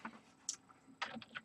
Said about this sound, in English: you just go ahead and type in something like